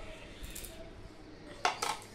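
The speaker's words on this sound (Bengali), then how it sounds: "একটা কড়াই নিয়ে নিলাম।" Metal kadai picked up and set down in a home kitchen, soft clinks followed by two sharp metallic knocks near the end, close and brief.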